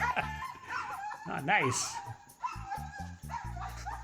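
A dog howls in a rising and falling wail, close and fairly loud, with yips and short vocal bursts around it while a person speaks briefly.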